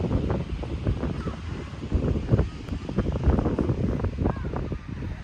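Strong wind buffets the microphone in continuous rumbling gusts beside a tall mural-covered tower, a loud low roar with bursts of flutter throughout and no clear talk.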